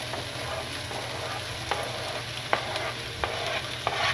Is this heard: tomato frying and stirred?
yes